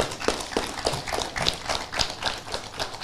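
Scattered clapping from an audience at a Bangladeshi web series launch event, a moderate round of applause with irregular claps over light room noise.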